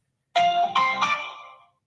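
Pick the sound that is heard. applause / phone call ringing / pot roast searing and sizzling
phone call ringing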